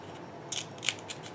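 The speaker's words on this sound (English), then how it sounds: "Just cut out some strips" Scissors snip through scrap paper strips for a scrapbook layout, a few quick, crisp cuts close by in an otherwise quiet room.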